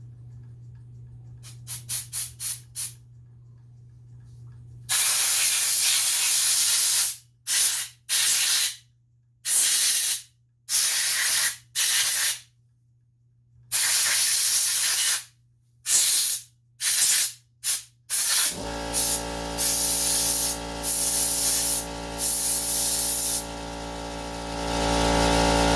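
Compressed air blasts through a Kawasaki FA210 carburetor in sharp repeated bursts, first a few short puffs, then longer loud hisses separated by pauses, ending with a steady mechanical hum.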